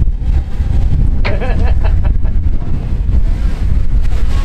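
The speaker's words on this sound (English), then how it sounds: "that wind's just fluffy, eh?" Strong sea wind buffets the microphone in a loud, steady roar beside surf breaking at a surf spot. A voice briefly rises above the rumble.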